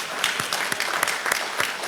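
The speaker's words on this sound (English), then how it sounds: "give yourselves a huge round of applause for showing up on a Friday night" An audience at an evening congressional debate event claps together, a dense and steady burst of applause from a room full of people with no speech over it.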